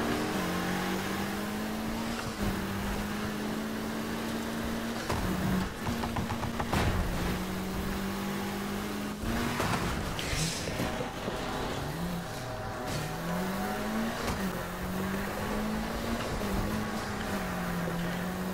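A 1965 Ford Mustang driving in Need for Speed Heat, its engine droning steadily with rising and falling revs as it shifts, a continuous mid-level hum without talk.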